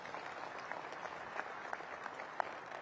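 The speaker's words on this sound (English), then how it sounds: "Give him a round of applause." Faint, distant applause, a steady wash of clapping from a crowd at low level with a few sharper claps standing out.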